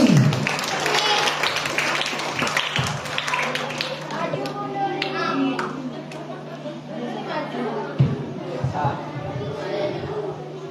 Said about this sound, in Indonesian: Tepuk tangan semuanya untuk Kak Nuri